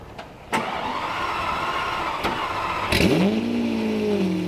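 A Lamborghini Aventador's 6.5-liter V12 with aftermarket FI exhaust on a cold start: a sharp click, then the engine catches with a loud rising bark that settles into a steady, droning idle, close up.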